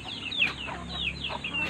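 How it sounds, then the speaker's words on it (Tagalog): Backyard chickens kept for tinola cluck in short repeated calls, several clucks close by and moderately loud, with soft background noise and no talk. "marami na po akong alaga, manok, pang tinola"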